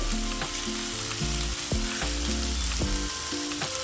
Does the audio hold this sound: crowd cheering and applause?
no